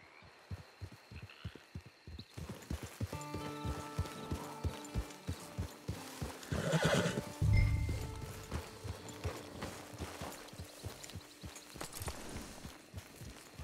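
Steady clip-clop of horse hooves in Red Dead Redemption 2, a rhythmic walking gait with a brief louder whinny-like swell midway. Harmonic tones run beneath the steps.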